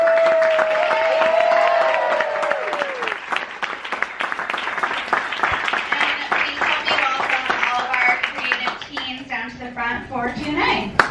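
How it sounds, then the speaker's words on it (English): An audience at a TV festival screening in New York gives a sustained round of applause, with dense clapping from a crowd that continues beneath a voice and scattered chatter. "Let's get another round of applause for all of you."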